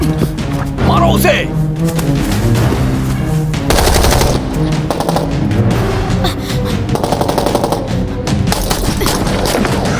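Rapid machine-gun bursts and gunshots ring out in a chaotic action-movie firefight, loud and dense for the whole stretch, mixed with shouting voices and dramatic music beneath.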